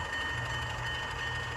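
An N scale model train runs steadily along a switching layout, giving a continuous low rumble and whir at close range with no voices.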